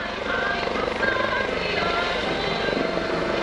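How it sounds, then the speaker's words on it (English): Loud, steady thrum of a nearby hovering US Coast Guard search-and-rescue helicopter at an airshow, rotor chop and engine noise filling the whole stretch without letup. "pilot's dropping the helicopter down just a little bit."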